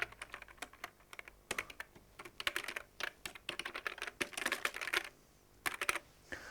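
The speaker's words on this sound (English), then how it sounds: "this is an old calculator machine" Mechanical clattering from the motor of an old calculating machine: irregular bursts of rapid, dry clicks and whirring chatter, close and fairly quiet, with brief pauses between runs.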